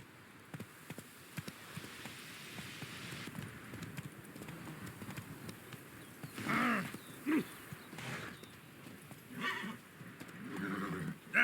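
Roach, the horse in the video game The Witcher 3, gallops with soft rapid hoofbeats, breaking into several loud snorts and neighs in close bursts.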